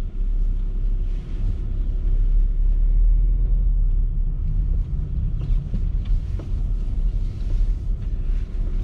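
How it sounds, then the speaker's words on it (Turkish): A car is driven and parked, with a deep, steady engine and road rumble heard from inside, some wind buffeting and light knocks as it slows and settles. "Arabayı buraya park edelim."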